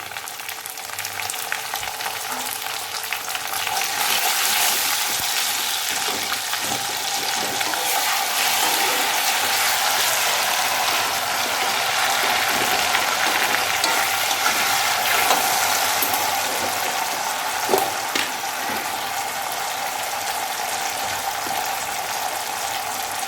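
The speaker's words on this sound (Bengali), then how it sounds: "এবার আমি টমেটো দিয়ে দিচ্ছি। একটু নুন দিয়ে দিচ্ছি।" Tomatoes and salt hit browned onions frying in a pan for a restaurant-style chicken curry, a loud continuous sizzle and crackle that holds steady throughout, with occasional stirring scrapes and no talking.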